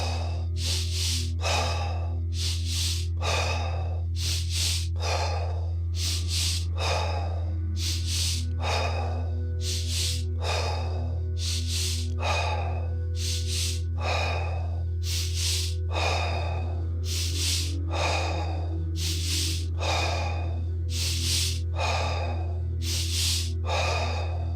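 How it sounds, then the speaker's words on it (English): Rapid DMT breathwork: a long, steady run of forceful inhales and exhales in an even rhythm, close and loud, over a low constant background hum, without speech. "last round, we're gonna do 20 breaths. Inhale, exhale."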